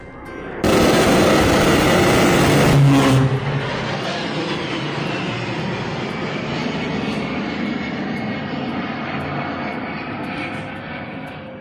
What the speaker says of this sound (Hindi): अमेरिका का जो A-10 एयरक्राफ्ट विमान है, जो जहाज़ है, फिर से दोबारा बमबारी करता है